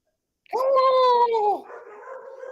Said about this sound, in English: Oh, I just woke up the dogs.